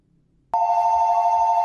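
Telephone bell ringing in a movie scene, starting abruptly after a moment of near silence and continuing as a loud, steady ring to the end.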